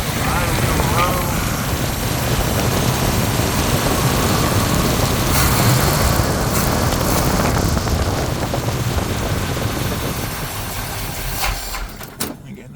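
A 1971 Plymouth Cuda engine runs roughly, a loud, close, uneven rumble that surges and sags with no fast idle, before dropping away near the end.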